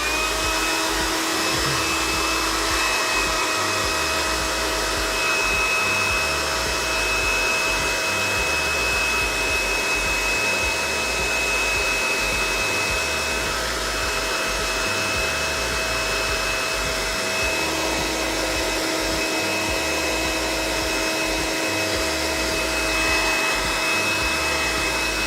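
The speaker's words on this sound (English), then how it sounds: "Hair dryer for 2 seconds." A hair dryer blows steadily for a long stretch while paint is dried on a miniature robot model. It produces a continuous, even, close-up whooshing hum with a faint whine, and no one speaks over it.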